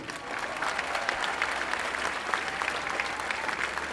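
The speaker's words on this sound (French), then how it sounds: "Vous pouvez les applaudir aussi." Steady applause from a large outdoor crowd at the opening ceremony of the 2024 Ferias de Dax, a dense, even patter running the whole stretch with a faint low hum beneath.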